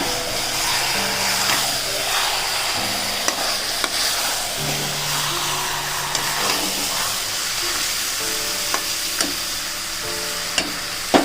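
Chicken meat sautés in a pan for kasundi chicken, a continuous close sizzle with stirring scrapes and occasional utensil clicks running steadily throughout, no talking.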